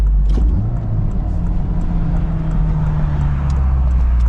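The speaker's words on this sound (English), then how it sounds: "I'm going to go from fourth gear to second gear." Manual transmission car skipping from fourth to second gear, a steady close engine drone with a low tone that slides down and then settles, loud and continuous under faint road noise.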